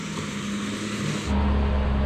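A Lada Niva's engine labours during an off-road hill climb, a steady hum that jumps to a louder, deeper roar partway through, heard alone without talk.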